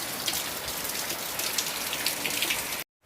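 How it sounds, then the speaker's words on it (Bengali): Steady rain falls outside, a continuous dense patter with wind, holding at an even level until it cuts off abruptly near the end. "বাইরে বৃষ্টি পড়ে যাচ্ছে, হাওয়া দিচ্ছে"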